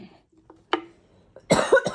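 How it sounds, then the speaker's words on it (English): A person recovering from illness gives a couple of short, harsh coughs, near and loud, with quiet pauses between bursts. "I've been really sick, so I still have my cough"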